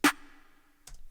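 A single snare drum sample hit inside a music production drive plugin, sharp attack with a short ringing tone decaying over most of a second, then a second softer hit near the end, clean and isolated.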